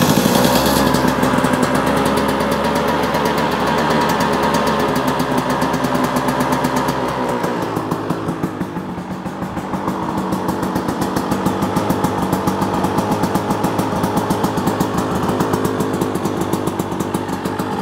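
A Beta 200 Race Edition two-stroke dirt bike engine starts with the choke on and runs continuously, a loud buzzing idle that dips briefly midway and then settles into a steady rapid rattle close by.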